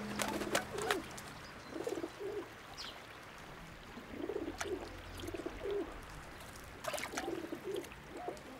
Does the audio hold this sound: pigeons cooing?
yes